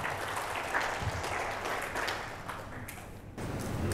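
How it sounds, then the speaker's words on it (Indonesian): An audience at a court seminar on restorative justice claps after a call to applaud a presenter, a steady wash of many hands, moderately loud, dipping briefly near the end before resuming. "Silakan Ibu, tepuk tangannya mana?"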